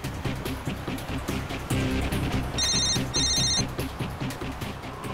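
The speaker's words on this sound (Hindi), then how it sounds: "टैक्सी वाले को फोन लगाओ" A telephone rings while a call is placed to a taxi driver, two short bursts of electronic ring tone cutting through steady background music and ambience.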